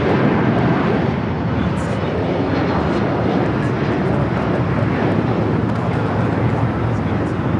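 An Emirates airliner taxiing into the Tom Bradley terminal on the north side of LAX, a steady broadband jet engine rumble and roar that holds at close range and fairly loud throughout.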